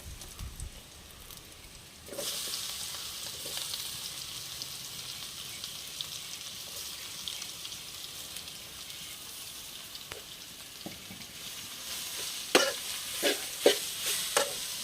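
Crushed young jackfruit sizzles in a pan, a quiet steady hiss swelling after it goes in, with occasional scraping stirs and a few sharper clicks toward the end.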